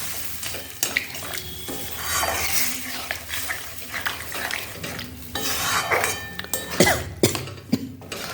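A spoon scrapes and stirs a spice mixture just moistened with water in a pan while cooking a pointed-gourd curry with curry leaves, giving irregular metallic scraping and clinks over a soft sizzle, close by and moderately loud.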